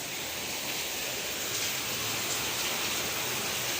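Heavy rain pouring down outside a home during a storm, a dense, unbroken hiss of water at steady loudness, with no voices heard.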